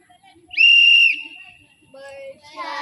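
A single sharp, loud whistle blast held for about half a second, then a fainter trailing tone, with light voices and other tones following nearby.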